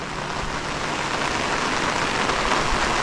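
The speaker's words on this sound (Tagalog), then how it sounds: "Sana mamaya tumila yung ulan para makapag-umpisa ng magkabit ng bubong" Steady rain pours on a house under construction where a metal sheet roof is about to go on, a dense, even hiss that continues without a break and with no voices.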